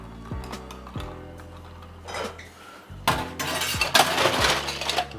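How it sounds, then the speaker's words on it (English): Ice cubes dropping into a glass of spritz cocktail, sharp clinks and rattles with ringing glass tones, a few separate drops and then a louder jumble of cubes, close up. "And I'm going to add a little bit more ice."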